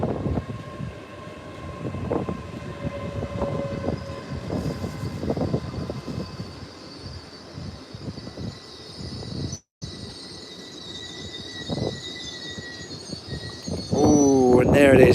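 LNER unit 801218 pulls into Doncaster station with a steady rumble of wheels and passing carriages, and a sharp squeal rises near the end as it slows, with voices talking over it.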